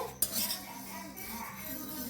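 Vermicelli fried and stirred in a pan, with a sharp metal clatter of a spoon against the pan near the start, then steady scraping and faint clinks.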